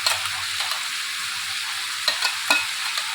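A fried paste of onion, tomato, ginger, garlic, cashew and chilli sizzling in hot oil for a chicken dish, a loud, even hiss throughout with a few spoon scrapes near the end, close and without talk.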